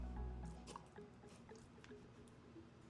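Canned pumpkin puree plops and squishes into a bowl in a series of soft, wet, close-up dollops and drips.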